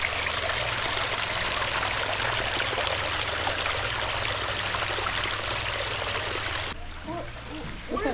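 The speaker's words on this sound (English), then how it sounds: "There's a little stream right here. It sounds really, really good." A small brook at a nature center flows with a steady, close trickling and babbling rush, then the water noise drops away near the end.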